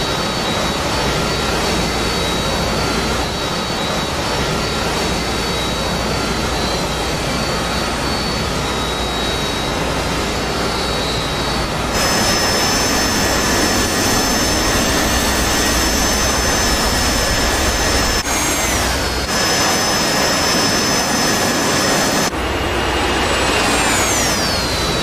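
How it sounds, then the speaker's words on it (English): A British Harrier jet flying near HMS Invincible over San Carlos in the Falklands, its loud continuous jet roar with whining tones that swell and shift pitch as it passes, sounding alone. "British Harriers operated off HMS Invincible to protect the airspace around"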